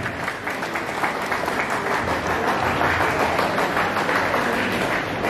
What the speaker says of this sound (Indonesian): Tepuk tangan dulu buat Ibu Megawati kita yang tercinta